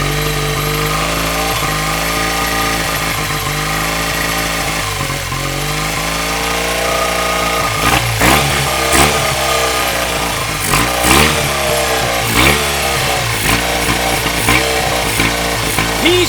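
A Yamaha four-stroke engine, pulled from a scrap pile and fitted with an uncleaned carburetor, runs loudly and steadily close by, its note dipping and surging as a thumb chokes the intake, then blipping with sharp revs.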